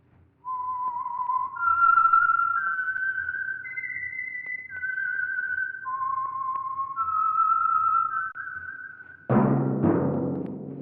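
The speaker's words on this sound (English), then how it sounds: "That whistle is your signal for the Signal Oil Program, the Whistler." A theme tune whistled on an old radio drama, a lone melodic whistle gliding through long rising and falling notes, clear and close, followed by a sudden orchestral chord near the end.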